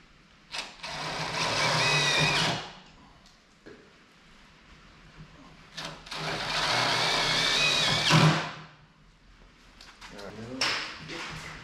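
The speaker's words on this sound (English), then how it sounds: "you're drilling into this part" A power drill boring into a car's thick steel hood while fitting Redline Tuning custom hood struts, with two long whirring bursts of drilling and short pauses between them, close and fairly loud.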